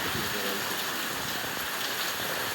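Heavy rain driven by wind, a dense, loud, unbroken rush of falling water and gusts filling the whole stretch with no let-up.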